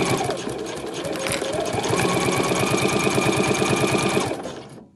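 A sewing machine stitches steadily along a passport pocket of a travel wallet, its fast regular needle rhythm loud and close for several seconds before slowing to a stop.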